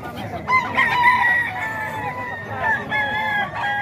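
A rooster crows loudly nearby in two drawn-out calls, with clucking fowl and faint voices in the background.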